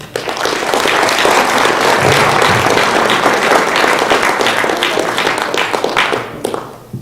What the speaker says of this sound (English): Both these groups deserve a big round of applause.